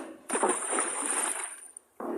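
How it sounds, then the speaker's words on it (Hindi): A person jumps into a pond, producing a loud, close splash with churning water that lasts over a second, fades, then a second burst of water noise follows. "रोहित बेसुध सा तालाब की तरफ भागने लगा और कब उसने उस तालाब में छलांग लगा दी उसे खुद भी नहीं पता चला।"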